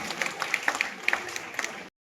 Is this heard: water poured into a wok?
no